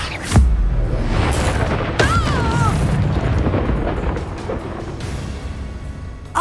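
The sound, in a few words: Bombarda explosion spell from video game Hogwarts Legacy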